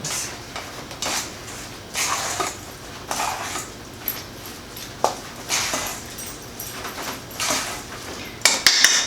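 Salmon patty mixture being mixed with breadcrumbs in a bowl: intermittent scraping and clinking of a utensil against the dish, with a few sharper knocks near the end.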